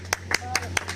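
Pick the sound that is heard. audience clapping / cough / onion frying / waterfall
audience clapping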